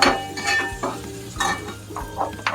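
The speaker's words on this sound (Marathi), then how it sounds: "आता हे ढवळून घेते सगळं." A spoon stirs spices into potato curry in a pan, making repeated scraping strokes with soft clinks against the metal over a steady sizzle, close and alone.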